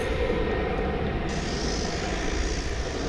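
An American Airlines jet takes off from Dallas/Fort Worth International Airport bound for Los Angeles, a loud, sustained engine roar with a rising high whine partway through, and no voices.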